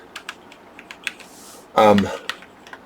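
Typing on an Amiga 2000 keyboard with mechanical German-made Cherry switches gives a run of light, separate key clicks at an uneven rhythm, broken by a loud, brief burst of voice near the middle.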